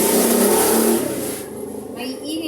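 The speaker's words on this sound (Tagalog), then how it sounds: "May ingay talaga itong mga sasakyan dito pag nakasatabi ka ng kalsada yung bahay mo." A car engine on a road right beside a house rumbles loudly as the vehicle passes close by, the roar fading over a couple of seconds while a person talks over it.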